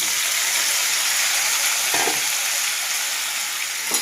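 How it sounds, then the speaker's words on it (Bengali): Sliced bottle gourd sizzles steadily in hot oil in a wok, a continuous close, even frying hiss with a faint stir or two and no talk. "একটু তেল দিয়ে লাউটা ভালো ভেজে নিলে"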